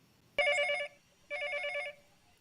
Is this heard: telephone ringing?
yes